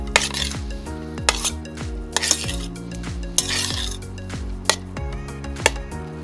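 A spoon stirs hot fried mushrooms seasoned with salt and pepper in a metal pan, giving repeated scraping strokes and sharp clinks against the pan in an irregular rhythm, close and fairly clear, with no voices.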